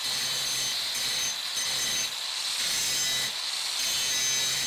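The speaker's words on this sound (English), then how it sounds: "All right, let's do some grinding now" A DeWalt 60V Flexvolt angle grinder grinds metal with a steady, loud, high-pitched whine and gritty rasp that dips briefly a few times as pressure on the workpiece changes.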